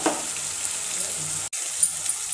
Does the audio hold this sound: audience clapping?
no